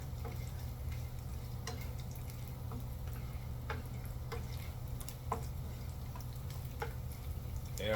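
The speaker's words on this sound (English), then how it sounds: "As the bacon, you see, still cooking" Bacon with red pepper flakes sizzles steadily in a pan, a constant close crackle with occasional sharper ticks and pops, no voices.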